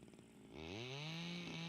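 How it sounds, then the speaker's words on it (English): A chainsaw in the video game SCUM revs up to a loud, steady whine as it trims bushes, running continuously at close range. "I've found that using a chainsaw to trim bushes is actually the best way to go."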